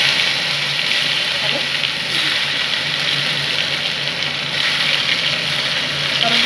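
A tomato fries in tempered, spiced oil in a pan for a Bengali ginger and magur fish curry, giving a steady, fairly loud hiss and sizzle throughout.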